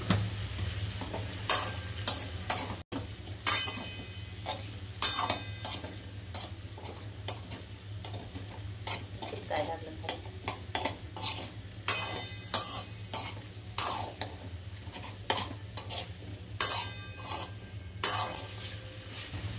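Sweet potato chips cooking with ghee and sugar in a pan, stirred repeatedly, giving a steady low sizzle broken by frequent sharp scraping and clinking strokes of the spoon against the pan, close and fairly quiet, with no talking.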